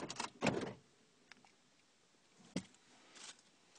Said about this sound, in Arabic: إلين تسمع الأبواب تقفلت